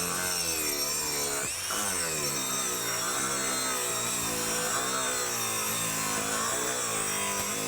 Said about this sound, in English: now I have the DeWalt angle grinder with the Kutzall very coarse flat wheel